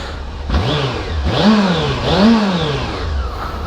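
A motorcycle engine running close by after being washed at a self-service car wash, revving up and down twice in rising and falling swells over a steady idle.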